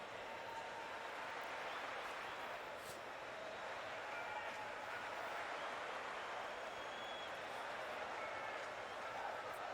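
A crowd of egg-shaped characters in a Fall Guys game lobby cheers as a continuous wash of faint, distant noise, steady throughout.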